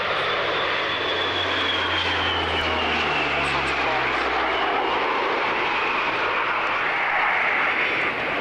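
A B-52 bomber at the 1993 Coningsby airshow, its engines roaring steadily and loud throughout while a voice talks over the noise.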